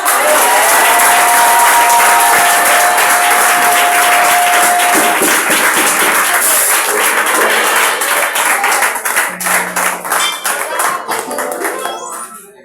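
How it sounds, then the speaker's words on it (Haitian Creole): A church congregation applauding loudly and continuously, dense clapping that thins into scattered claps near the end. "Applaudis encore, applaudis."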